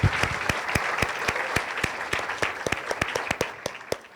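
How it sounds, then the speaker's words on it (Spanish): A packed university auditorium audience in Cali applauds at a literary event, a loud burst of clapping that thins into distinct, separate claps as it tapers off toward the end. "El aplauso para ustedes todos"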